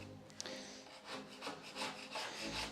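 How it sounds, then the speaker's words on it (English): A palette knife scrapes old paint off a wooden door in steady, close, rasping strokes that rise and fall in a loose rhythm, with no voices. "I'm just taking off all the bigger bits sticking out with the palette knife"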